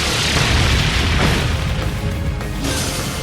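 A loud, sustained explosive blast as the Brionac weapon fires in Trails of Cold Steel III, a dense booming roar that fills the whole clip.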